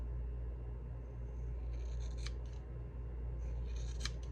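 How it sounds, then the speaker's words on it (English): Scissors snipping off the dead ends of hair during a wolf cut layering haircut, a few faint, crisp snips up close over a steady low background hum. "I'm just subtly trying to cut off my dead ends."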